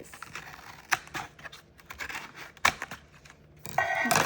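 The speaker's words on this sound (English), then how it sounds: "More scissors, more scissors." Scissors snip and tear at plastic packaging around store-bought slime, giving sharp irregular cuts and crinkles close up, ending in a louder stretch of ripping and rustling.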